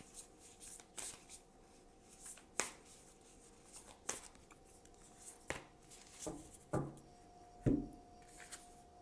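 Tarot cards are shuffled in sparse, separate snaps and slaps close by, quiet between each, with no talk over them.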